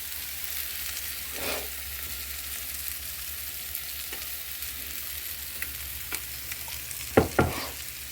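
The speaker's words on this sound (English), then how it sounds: "we will go ahead and add our eggs" Eggs frying in a pan, a faint steady sizzle with a few soft scrapes of a utensil and a couple of louder clatters near the end, no voices.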